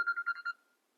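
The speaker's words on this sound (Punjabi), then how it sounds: "ਪੂਈ ਦਾ ਫੋਨ" A phone rings with a short burst of quick electronic trill pulses, faint and close, then cuts off into silence.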